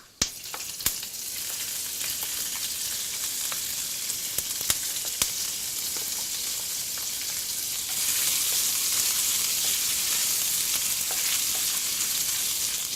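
Ginger stir-frying with spices in a pan while braised pork belly is being cooked, a loud, steady hiss of sizzling oil punctuated by a few sharp clicks of utensils, growing slightly brighter midway.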